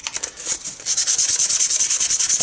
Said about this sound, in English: Sanded to 180.